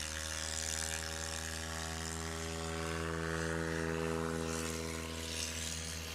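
A STOL aircraft at a Lonestar STOL competition drones steadily as it flies off, a continuous propeller hum with strong low harmonics that holds at moderate level and slowly shifts, with no talk over it.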